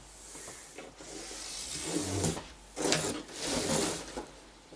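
A pen or marker draws a line across a cardboard shipping box, giving a dry scratchy rubbing sound in a few close strokes that swell and fade, with short pauses between passes.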